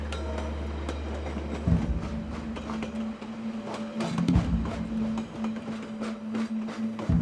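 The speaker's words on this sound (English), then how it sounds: "The train leaves the safe plains and enters the dramatic mountainscape of the Urubamba Valley." A train running on Peru's Southern Railway mountain line through the Urubamba Valley, a steady low rumble with a sustained hum and scattered clanks and rattles of rail cars, fairly near and continuous.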